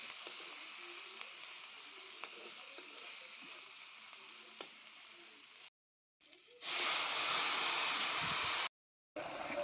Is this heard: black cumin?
yes